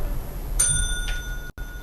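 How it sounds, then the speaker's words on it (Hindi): A quiz show bell rings once with a bright metallic ding that lingers in a long thin ringing tone, followed by a fainter second strike and a brief drop to silence. "घंटी अगर बजती है तो।"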